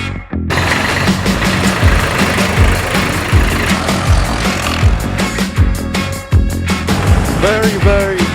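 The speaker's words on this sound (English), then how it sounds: "Ever wondered when two tractors meet in Sark?" A tractor engine runs on Sark island, its loud, steady mechanical rumble continuous throughout with irregular knocking pulses and mixed with outdoor background noise.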